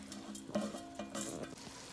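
A spoon stirs basmati rice in a pot, giving soft scraping and a faint sizzle across a couple of short strokes.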